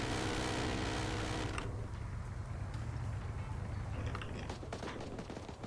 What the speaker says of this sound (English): look at that minigun as it's just firing